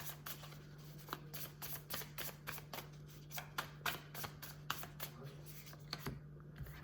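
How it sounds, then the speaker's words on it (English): A deck of tarot cards shuffled and pulled, giving a rapid run of soft papery flicks and snaps in an uneven rhythm, close and quiet. "let me just pull a couple more cards"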